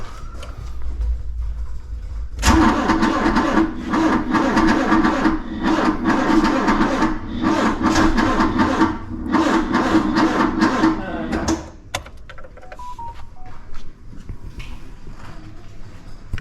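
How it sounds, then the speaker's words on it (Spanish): Starter motor cranking the engine of a Matra Simca Bagheera left sitting twelve years with a seized starter, a loud steady grinding churn for about nine seconds that then cuts off, with voices talking nearby. "No le des gas y dale el arranque, a ver."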